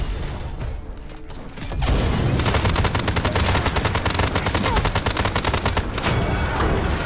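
Rapid automatic gunfire from a weapon in the Paladins video game, a loud sustained burst of closely spaced shots that starts after a brief quieter mechanical lead-in and runs for several seconds.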